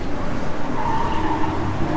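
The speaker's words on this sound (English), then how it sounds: "Probably doing more drifting than I am gripping." A Toyota 86 drifts around the Midpond track, a loud, close, continuous roar of engine and sliding tires with no talking.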